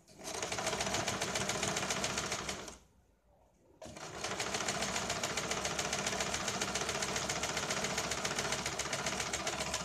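A sewing machine stitches a katori blouse with a steady, close, rapid whir, stopping briefly for about a second before running on again at the same even pace.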